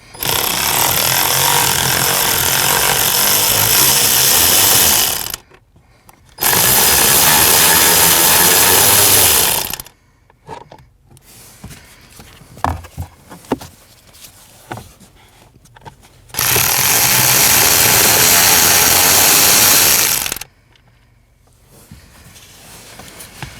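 A power tool removes three 8mm bolts from the HVAC blower motor of a 2014-2023 Jeep Cherokee, making three loud, harsh buzzing bursts of about five seconds each, separated by quieter handling clatter.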